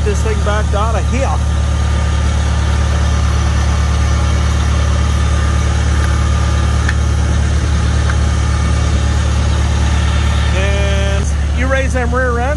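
A car engine runs at a steady low idle while the car is backed out, a constant deep hum throughout with someone talking over it.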